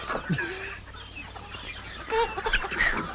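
Several chickens cluck and squawk close by in short, uneven bursts, with no talking.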